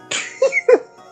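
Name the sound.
sneeze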